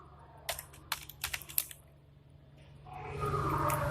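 Fingers tap out code on a computer keyboard in a handful of quick, distinct keystrokes, close and fairly soft, before a low steady hiss swells up behind them.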